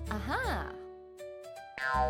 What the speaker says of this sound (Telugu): కాని అకస్మాత్తుగా బలమైన గాలి వీచింది మరియు ఆ బుడగ దాని ముఖం అంతా పగిలిపోయింది.